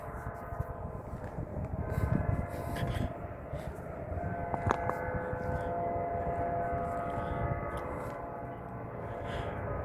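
A Nathan P3 air horn on a southbound manifest freight train sounds with sustained, steady multi-tone chords over the rumble of the passing train, fairly loud and continuous throughout.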